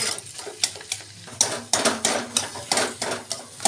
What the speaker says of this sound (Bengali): একটু আরেকটু ভাজা ভাজা হলে এই ডাল ঘুটুনি দিয়ে আমরা এগুলো ম্যাশ করে নেব